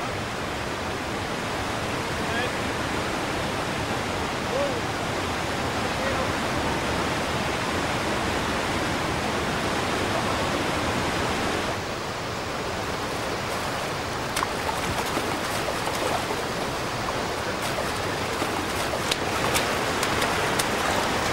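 Waterfalls and rapids on the Laxá river in Refasveit roar in a dense, unbroken rush of white noise, loud and close, with faint clicks and bumps over the torrent in the second half; no talking.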